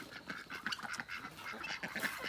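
Several ducks at an animal sanctuary quack in a steady, overlapping chatter, close and fairly loud, with a few honking calls mixed in and no talking.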